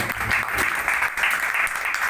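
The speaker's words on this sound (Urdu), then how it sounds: "آئے زوردار تالیاں خدا کے جناب" A church congregation applauds loudly at a Pakistani pastor's service, a dense, steady roar of clapping that stays strong and continuous throughout.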